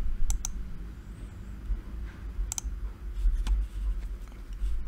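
Clicking keystrokes from a computer keyboard while code is typed for a Google Earth Engine script, a few sharp isolated taps over low background hum, fairly close and without speech.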